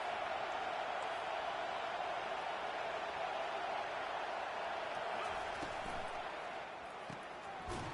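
Steady, dense roar of a football stadium crowd at a college game against Michigan, a broad continuous wash of cheering noise holding level throughout with no clear talk.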